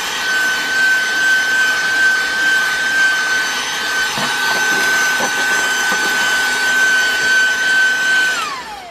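A SehenTools 12V 60W car vacuum cleaner with a flexi nozzle runs steadily with a loud, high motor whine, sucking and rubbing against surfaces partway through before spinning down at the end.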